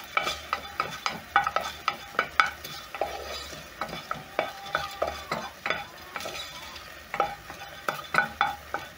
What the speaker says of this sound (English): I'm going to toast for around 1 minute until the spices for my rice are very flavorful